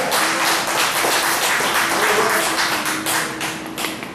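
Congregation applause at a Christian church service, dense and continuous clapping that fills the whole stretch, loud and close, with a faint sustained tone underneath.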